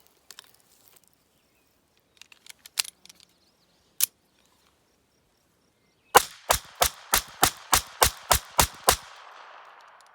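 Ruger LCP II .22 LR pistol firing 40-grain CCI Velocitor rounds at a range, a single sharp shot followed by a rapid string of about nine evenly spaced loud cracks, preceded by faint handling clicks.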